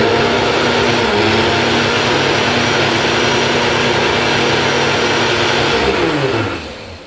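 An electric mixer blends oil into homemade mayonnaise, a loud continuous whirring drone close by that holds steady and then winds down at the end.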